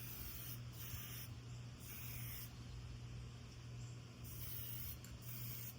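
Pre-catalyzed lacquer sprays onto a cigar box in a steady hissing spray that stops and starts in short bursts over a low constant hum, close and fairly quiet, with no one talking.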